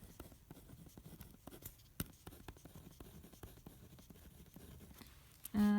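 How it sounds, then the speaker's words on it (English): Numbers being written by hand with a pen on paper, a quiet series of short scratchy strokes and taps in an irregular rhythm, close up, ending with a brief louder tone. "So writing those numbers down."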